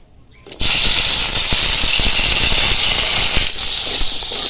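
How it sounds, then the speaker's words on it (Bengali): Crab dropped into hot oil in a wok sets off a sudden loud, hissing sizzle that holds steady and close, easing only slightly near the end. "কড়াটা গরম হয়ে গেছে আমি তেল দিয়ে দিচ্ছি এবার এর মধ্যে কাঁকড়াটা দিয়ে ভাজবো"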